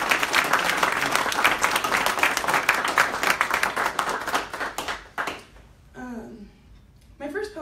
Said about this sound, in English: So if we could have another round of applause for them.